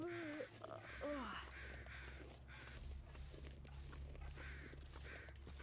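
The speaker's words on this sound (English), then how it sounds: "I didn't realize I was close enough to hear the crows." Crows caw in a snowy outdoor scene of The Long Dark, a few distinct calls coming early and then fading under a steady wind-like ambient bed, fairly distant and faint.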